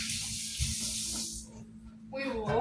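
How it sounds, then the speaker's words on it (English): Tap water runs for handwashing, a bright steady hiss that cuts off after about a second and a half, followed by faint voices talking nearby. "We will wash our hands."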